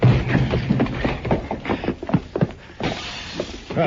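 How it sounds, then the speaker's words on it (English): In a radio drama, a glass front window shatters as men crash out through it: a loud burst of breaking, splintering glass with scattered crunching fragments over a few seconds, without any voices. "They crashed out through the front window, Mr. Dillon."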